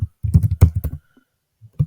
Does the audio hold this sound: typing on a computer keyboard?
yes